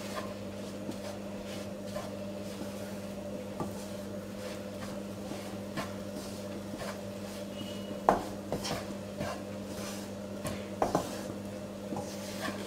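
Spoon scraping and stirring gram flour roasted with ghee in a pan for besan laddu, a steady low sizzle with soft repeated scrapes and a few sharper metallic clinks, close by, no speech.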